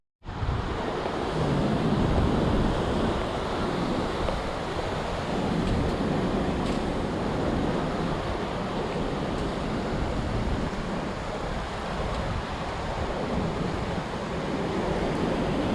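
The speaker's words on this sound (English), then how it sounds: "the ocean behind it" Steady roar of ocean surf at the river mouth beside Belem Tower in Lisbon at low tide, a broad continuous wash of waves mixed with wind buffeting the microphone, loud and unbroken throughout.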